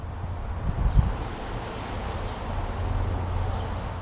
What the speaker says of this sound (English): it's supposed to be a blustery, you know, windy day today